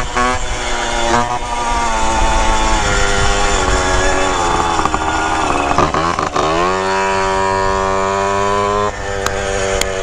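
A Puch stunt moped's small two-stroke engine revs hard up close, a loud buzzing drone that climbs and holds, dips briefly, then winds back up to a high, steady scream.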